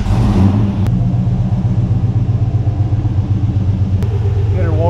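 Car engine revving while warming up, a loud close rumbling idle with throttle blips and a brief rising rev near the end.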